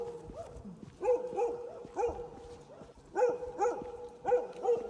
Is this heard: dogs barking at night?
yes